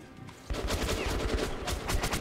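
Gunfire in the video game Metro 2033 Redux erupts after a brief quiet, a rapid, loud burst of repeated shots that continues steadily to the end.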